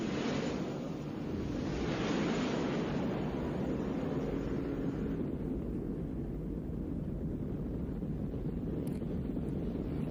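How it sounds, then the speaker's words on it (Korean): Huge waves from a falling star in a film scene, a steady loud roar of surging surf and wind that fades slightly toward the end. "별이 떨어질 때 이제 어느 정도의 큰 파도가 오느냐 한번 보시라는 거예요."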